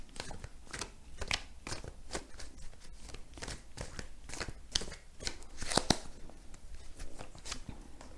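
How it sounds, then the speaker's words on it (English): A deck of tarot cards is shuffled for several seconds, producing a steady run of quick papery riffles and soft snaps at close range, with a few sharper clicks near the end and no talking. "But anyway, this could be a no when I shuffle these."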